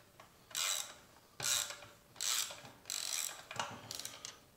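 Hand ratchet tightening bolts on a Chevrolet Blazer rear differential during final assembly, giving five close, rasping clicking bursts separated by brief pauses as each bolt is worked down.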